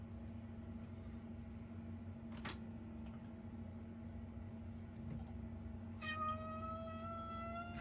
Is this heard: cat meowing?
yes